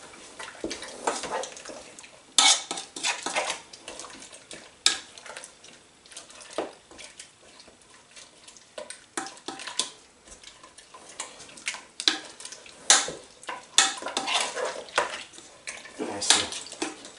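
A spoon stirs lamb stew with cava in a cooking pot, making repeated clinks and scrapes against the metal in an irregular rhythm, close and fairly quiet.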